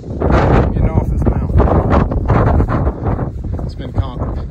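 Strong wind buffets the microphone on a 4,118-foot mountain summit along a long hiking trail, a loud, steady roar with gusty swells that runs through the whole stretch under a voice.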